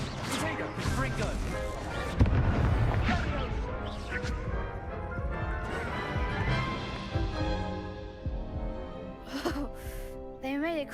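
A Confringo explosive spell blast in Hogwarts Legacy strikes amid dense combat effects and music, with heavy impacts and a sharp burst, loud throughout under voices calling out spells.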